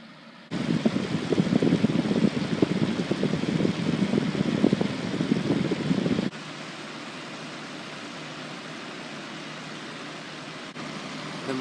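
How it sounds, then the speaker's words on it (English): A homemade 8-inch cardboard box fan with a slightly worn motor brush runs steadily nearby, a loud broadband whoosh of air that drops to a quieter, even hum partway through, with no talking. "The motor on this fan rattles a little bit"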